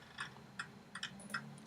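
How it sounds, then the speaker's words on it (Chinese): A quiet, steady clock in an airport setting ticks about five times in under two seconds, each tick crisp and evenly spaced over a faint ambient hum. "时钟的声音。"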